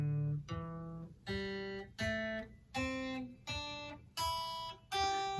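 An acoustic guitar plays a simple beginner scale in open position, ascending one clear plucked note at a time. There are about eight evenly spaced notes, each ringing briefly before the next, and no talking.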